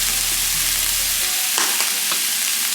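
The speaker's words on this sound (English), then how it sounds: "And I want to saute these up, turn down the heat." Food sautés in a little butter and olive oil on medium-low heat, giving a steady close sizzle with a low hum at the start and a few brief scraping stir sounds near the end.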